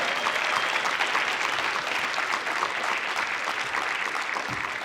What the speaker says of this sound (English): So please give a round of applause to my friend Diane Wilson, truly an unreasonable woman.